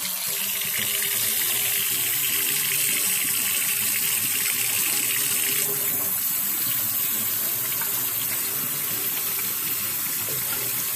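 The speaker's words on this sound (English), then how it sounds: "I'm going to turn this water on hot." Hot water runs hard from a tap in a continuous, even gush close by, filling the whole stretch without a break.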